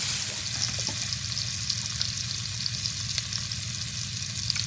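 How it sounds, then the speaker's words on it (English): Meat for paella sizzles steadily in hot oil in a pan, a dense crackling hiss with scattered pops and a low background rumble throughout. "We are going to sear them all over."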